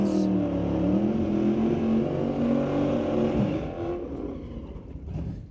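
Drag racing cars, a 1972 Chevrolet Malibu and a 2014 Ford Mustang, launching at a street-legal drag strip with a loud sustained engine roar that fades as they pull away.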